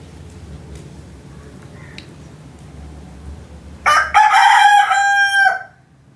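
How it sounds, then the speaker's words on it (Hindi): A rooster crows indoors inside a room, a single loud, close cock-a-doodle-doo lasting over a second after a quiet stretch, ending abruptly. "कमरे के अंदर बैठ के बांग लगा।"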